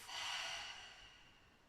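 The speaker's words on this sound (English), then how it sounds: "inhaling through your nose and exhale through your mouth" A single deep breath pushed out through the mouth during a calming yoga routine for sleep, a soft airy exhale that swells quickly and then fades gradually, quiet and close, with no talking over it.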